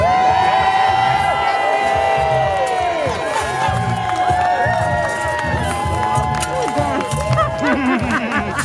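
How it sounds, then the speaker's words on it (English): An outdoor crowd at a groundbreaking ceremony cheers, whoops and shouts continuously and loudly, with voices calling out through the noise. "we need some cheering out here."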